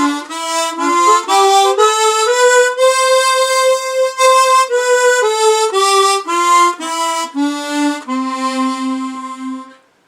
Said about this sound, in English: if you play it in C on a C chromatic